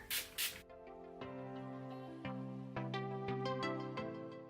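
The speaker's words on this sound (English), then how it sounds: "So I'm just gonna spray a little bit of my setting spray." Two quick, close bursts of Urban Decay All Nighter setting spray mist at the start, followed by soft background music with no talking.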